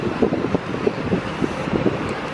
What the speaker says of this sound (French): Alors là, il y a beaucoup de vent.